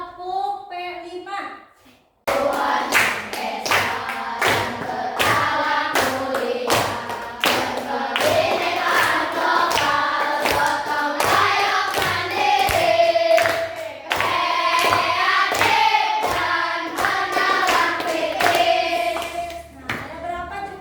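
Students in a classroom perform a chanted clapping routine together, sharp rhythmic group claps in a patterned beat interleaved with children's voices chanting loudly throughout, after a brief spoken lead-in.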